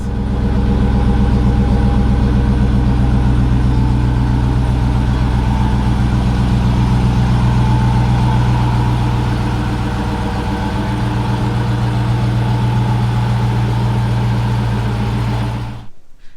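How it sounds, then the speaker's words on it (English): A 2021 Dodge Charger R/T engine rumbles steadily and loudly up close as the car pulls out of a garage, a deep sustained idle-like drone that holds for about fifteen seconds before cutting off abruptly. "I'm actually about to pull the car out of the garage now"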